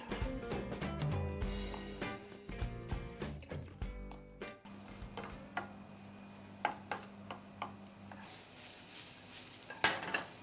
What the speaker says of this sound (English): I'm going to now saute the onion with a little bit olive oil